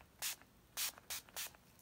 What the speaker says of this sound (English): So I'm just spraying all of them except for the Java, that black one.